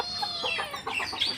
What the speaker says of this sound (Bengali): আর আম্মুর মুরগি আছে কিছু,